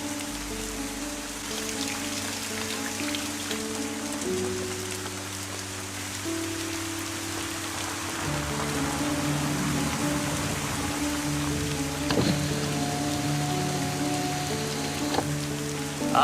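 Steady rain patters on a surface throughout, with a low sustained musical drone underneath.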